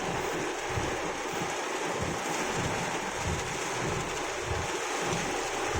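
Steady, dense hiss of heavy rainfall pouring down, constant and loud with a low rumbling wash underneath; no voices.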